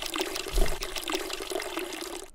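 Water pours in a steady gurgling stream as plants are watered in the game Weed Shop 2, a close burbling flow with slight splashes, heard alone.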